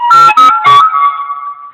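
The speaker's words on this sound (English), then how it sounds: "Excuse my phone." A phone ringtone sounds indoors, three short melodic tonal bursts followed by a fading ring-out, loud and close with no talking over it.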